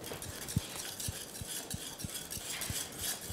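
Butter being stirred into lemon curd in a pan, with soft scraping and regular light clinks of a utensil against the pan, roughly two per second, close and quiet.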